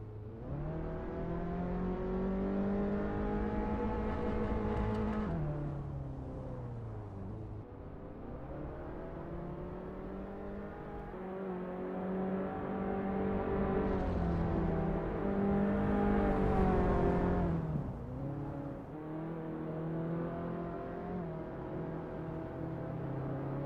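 A Reliant Supervan's engine races around Deepforest Raceway in Assetto Corsa, droning steadily near and loud, its pitch climbing and dropping repeatedly through gear changes and corners for a long continuous stretch without speech.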